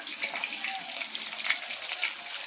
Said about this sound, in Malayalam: ഇനി നമുക്ക് വെളുത്തുള്ളി ഇഞ്ചിയും കൂടെ ഇട്ട് കൊടുക്കാം.